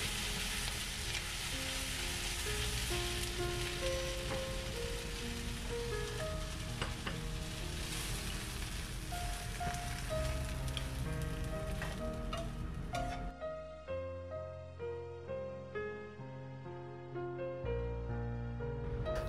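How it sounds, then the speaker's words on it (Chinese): Chopped scallions (Chinese leek) stir-fry in a hot wok for scallion-fried pork, a dense continuous sizzle with stirring scrapes, backed by music that carries on alone after the frying stops. "第3步是炒大葱，这里的目的啊是把大葱炒软炒香。"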